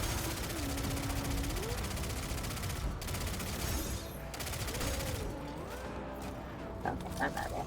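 Rapid automatic gunfire in the Destiny 2 video game, dense bursts of shots running almost throughout, loud and close, with brief voice fragments mixed in.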